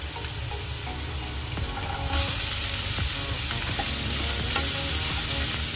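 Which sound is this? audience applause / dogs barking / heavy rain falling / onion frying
onion frying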